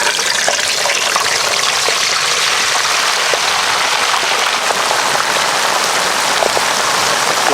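Hot oil boiling and bubbling loudly as a whole turkey is lowered into a deep fryer, a dense, steady roaring hiss close by, no talk.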